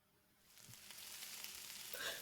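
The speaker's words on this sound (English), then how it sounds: "The sound of sizzling bacon" Bacon sizzles and crackles in a pan, building from quiet to a steady, bright hiss with small pops; no voices.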